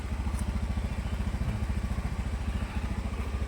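A motorcycle with an AC electrical system idles nearby with a steady, even low putter of rapid regular pulses and a faint mechanical clatter over it.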